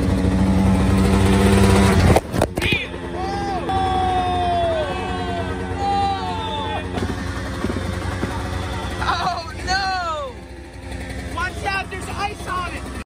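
A dirt bike engine idles steadily just after a night-time start-up outdoors near a fire pit, a continuous low mechanical drone with wavering whistly tones on top, while people talk nearby.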